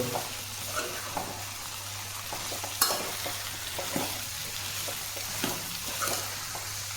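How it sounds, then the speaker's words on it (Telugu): Cauliflower and onion are stir-fried in a pan, with repeated scraping and clicking strokes of stirring over a continuous sizzle and a low background hum. "ఉల్లిపాయ క్యాలిఫ్లవర్ మొత్తం కలుపుకున్న తర్వాత"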